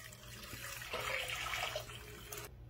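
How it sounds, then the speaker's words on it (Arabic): Three cups of water poured into a cooking pot for a spiced drink with saffron, cardamom, cloves and ginger, a steady splashing stream that runs for about two seconds, then stops abruptly. "3 أكواب ماء."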